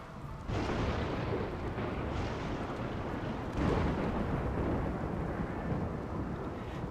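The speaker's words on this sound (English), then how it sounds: "Rainy thunderstorm." A rainy thunderstorm in the colony-building game RimWorld, a low rolling rumble of thunder that swells at about half a second and again near three and a half seconds, over a steady bed of rain noise.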